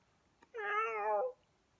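A cat gives a single clear, drawn-out meow, close and fairly loud against a quiet background.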